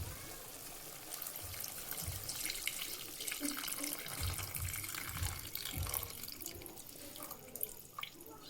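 Water splashes and trickles into a bowl of tamarind in irregular pours, fairly quiet, with no talking.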